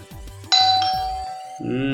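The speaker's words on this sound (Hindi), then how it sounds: "ये तो घंटी की आवाज है।" A doorbell rings with a bright ding-dong chime, preceded by some low background tones, its second note ringing out at the end.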